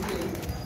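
Pigeons in a lively mood let out one short, soft, throaty coo close by, a quick low warble lasting under a second.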